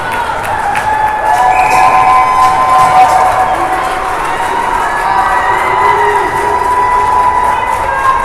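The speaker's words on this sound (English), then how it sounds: "Chaska fans with a big round of applause as their girls have looked like the better team the last minute and a half" Chaska fans at a girls' U12 youth hockey game cheer and applaud steadily from the stands, a dense, continuous crowd roar with whistles and tonal shouts running through it, loud and filling the rink.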